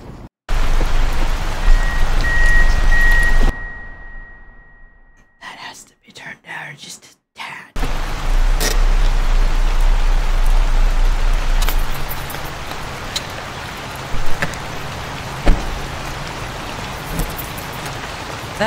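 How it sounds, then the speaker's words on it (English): Heavy rain pours in a steady hiss in the video game Night Security, briefly cutting out before resuming loudly, with occasional sharper spatters and a whispering voice beneath it. "That is some loud rain."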